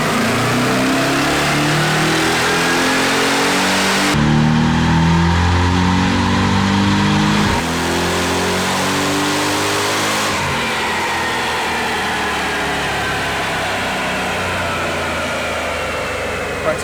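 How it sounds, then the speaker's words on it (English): A supercharged Toyota Tundra truck on 38-inch tires runs on a dyno, its engine droning and revving steadily for the whole stretch, climbing through the gears with loud, sustained mid and low growl and a brief shift in tone partway through. "Let's jump in and dyno this truck."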